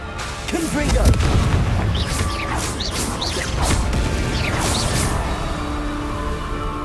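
Confringo spell blasts go off in Hogwarts Legacy, a series of booming explosive impacts with whooshing bursts and crashing debris, repeated several times over a steady roar of game noise and some talk.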